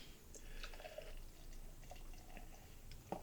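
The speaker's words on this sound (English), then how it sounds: "Let's go ahead and get a pour." Canned ale from a 12-ounce can is poured aggressively into a glass, a faint, soft fizzing and trickling of liquid with a few small drips and a light clink near the end, all quiet with no talking.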